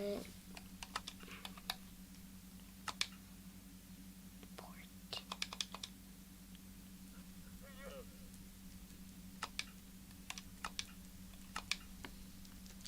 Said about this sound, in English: Typing is hard for me.